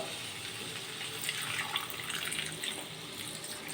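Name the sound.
water poured into pan of potato curry (aloo dum)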